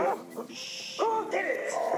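A dog gives short yips and whimpering barks in quick bursts while people talk over them.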